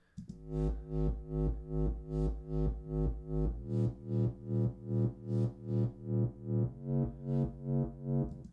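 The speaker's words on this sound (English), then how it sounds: "I didn't know you could pitch white noise." A synthesizer plays pitched white noise, a distorted, buzzy pitched tone that pulses steadily about twice a second, shifting pitch now and then.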